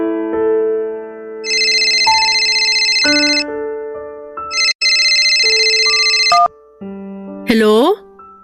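A telephone rings with a bright electronic ringtone, loud and close, in repeated bursts over a melodic background tune.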